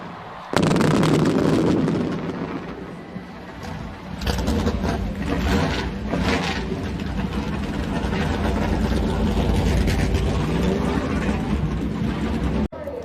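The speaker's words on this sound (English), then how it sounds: "Drivers, start your engines!" A loud roar of many NASCAR stock car engines firing up at once at the start of a race, a dense, sustained rumble with sharp bursts, echoing over a large open space.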